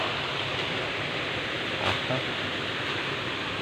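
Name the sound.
small waterfall on a mountain trail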